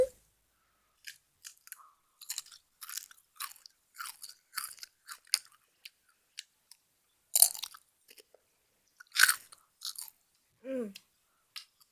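A crunchy honey snack is chewed close up, with quiet intermittent bites and crunches separated by short silences and a brief soft vocal sound near the end.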